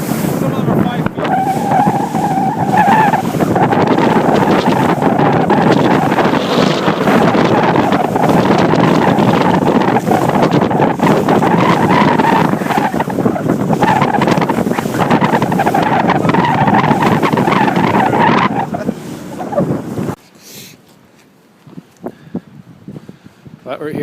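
Strong wind buffets the microphone on a boat out on Lake Ontario, with waves rushing and slapping in a loud, continuous roar that drops abruptly near the end.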